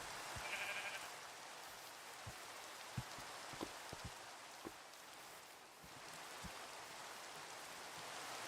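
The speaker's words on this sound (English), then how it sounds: "Ooh, brown sheep." A sheep in the Minecraft video game bleats faintly in the background alongside a soft rain-like ambience, with small scattered clicks throughout.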